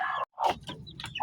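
A chicken clucks in short, close bursts, a few quick clucks with brief gaps, clear and alone.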